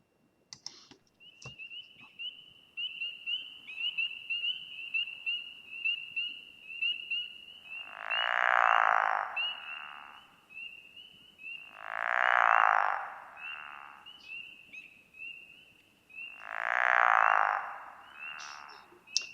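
Recorded late-season frog chorus: a continuous high trilling of spring peepers in the background, with three loud, low snoring croaks of a pickerel frog rising at regular intervals, each lasting about two seconds.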